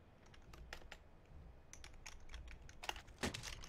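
A computer keyboard clatters with quick, uneven keystrokes as a console command is typed into a game, close and fairly faint, with no voices.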